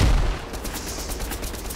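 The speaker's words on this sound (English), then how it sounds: "Spamming the grenade launcher." Grenade launcher fire spammed in a Fortnite match, a dense run of rapid, loud gunfire-like blasts that keep going without a break for nearly two seconds.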